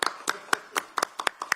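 An audience at a political party event gives about nine separate, sharp hand claps at an uneven rhythm, close by and fairly quiet, with no talking.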